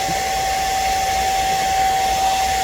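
A hair dryer runs steadily with a constant whine and broad airy roar, close and unchanging throughout, with no voices.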